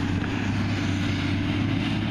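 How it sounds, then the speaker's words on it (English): Busy town street traffic, a steady loud low engine drone and broadband roar from nearby vehicles with no distinct events and no talk. "Sorry about the noise, guys. This is one busy area in town."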